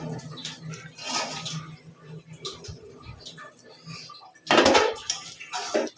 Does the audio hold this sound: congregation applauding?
no